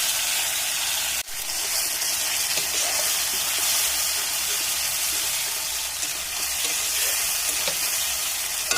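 Ground ginger, garlic, dried red chili and cumin masala frying with browned onions for a country chicken curry: a loud, steady close-up sizzle and hiss with a sharp clank near the start and faint stirring scrapes.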